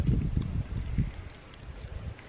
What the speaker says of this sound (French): Un petit vent, ouais.